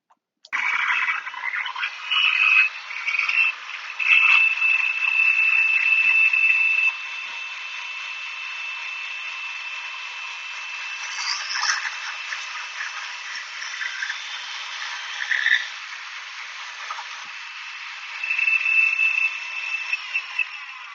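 A rotary planer mounted in a Shopsmith drill press spins against wood, skimming across a knot with a steady high whine and rough scraping bursts that swell and fade over about twenty seconds, with no voices.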